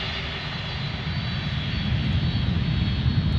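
Large jet airliner taxiing past close by at Dallas/Fort Worth airport, a steady loud engine and APU roar with heavy low rumble that swells slightly as it rolls nearer, no voices.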